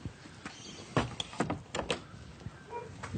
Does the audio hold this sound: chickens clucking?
no